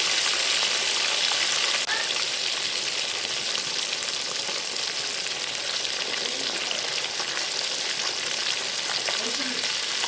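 Mundakanni fish coated in masala fries in a pan of oil, giving a loud, continuous crackling sizzle that stays even throughout with no other sounds on top.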